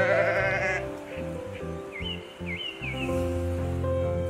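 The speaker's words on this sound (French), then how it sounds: "Le mouton est un mammifère herbivore." Sheep bleating, several wavering calls close by over a steady background, with faint chirps above.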